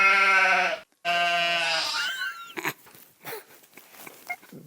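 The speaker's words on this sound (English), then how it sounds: "that's a goat" Goat bleating loudly and close by in two long wavering calls with a brief gap between them, followed by fainter scattered farmyard noises.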